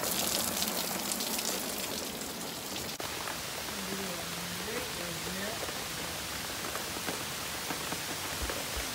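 Heavy rain pours down in Canada in August, a dense, constant hiss of drops hammering nearby surfaces, with a faint voice briefly audible beneath it.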